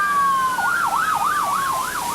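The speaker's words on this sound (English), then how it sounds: "Sirens blared throughout the surrounding neighborhood" An emergency vehicle siren wails during a flood evacuation in 1993, a steady tone shifting into a rapid rising-and-falling warble, moderately close and alone.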